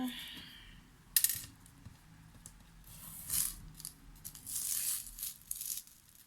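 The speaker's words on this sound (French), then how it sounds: "je vais essayer d'enlever mon ruban de masquage" Several short bursts of tearing and crackling as tape peels away, with quiet rustling and handling noises between them, fairly close.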